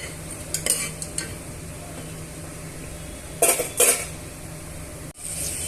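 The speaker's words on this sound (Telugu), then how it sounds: "ఇప్పుడు ఇవన్నీ కూడా బాగా వేయించుకోవాలి" Spices fry with ginger garlic paste in a pan for Hyderabadi bagara rice, giving a steady sizzle that is broken by scraping stirs and a few clinks of a metal spoon against the pot.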